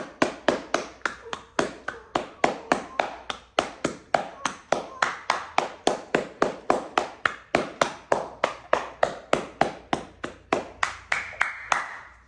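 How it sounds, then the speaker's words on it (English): Hands clap steadily during a yoga exercise session, a long run of crisp, evenly paced claps repeating several times a second, close and alone with no talk. "Clap."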